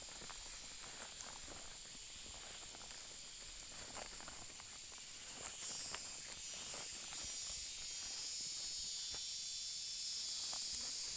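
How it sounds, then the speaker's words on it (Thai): Cicadas drone beside a newly planted coffee field: a faint, continuous high-pitched buzz with the odd rising whine, steady throughout and heard from a distance, with no talking. "ว้าเสียงจักจั่นหอน"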